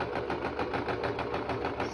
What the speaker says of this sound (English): you're going to sew one edge